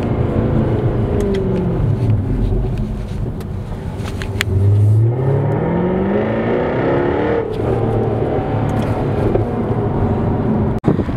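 A wide-body Fab Design GTR with a big wing revs loudly at a car show, its engine rising and falling in sweeps over a constant, noisy indoor background, with a few sharp crackles from the exhaust.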